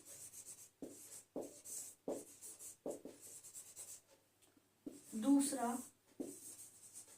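Marker or chalk strokes on a board during a chemistry lesson, short scratchy squeaks in uneven bursts between pauses, heard alongside a teacher's speech.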